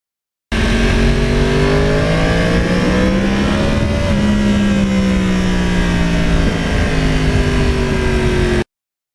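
A loud, close 2009 Yamaha R1 crossplane motorcycle engine revs continuously for several seconds, its pitch climbing, dipping, then settling into a steady high drone. No voices.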